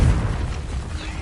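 A Confringo fire-blast spell goes off in the Hogwarts Legacy game: one loud, booming burst up front, then a rumbling, crackling tail that stays dense across the whole moment.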